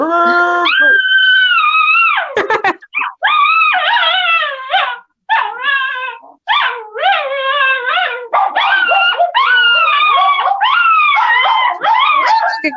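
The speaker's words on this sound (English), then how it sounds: "So I taught the small dog right here, baby Luigi, to howl like a coyote." A small dog howls like a coyote, close and loud, in long wavering yips and drawn-out wails with brief breaks, continuing steadily for the whole stretch.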